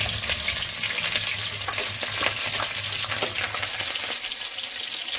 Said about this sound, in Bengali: কড়াই তেল গরম হয়ে গেছিল। রসুন আর কাঁচা লঙ্কাটা দিয়ে দিচ্ছি।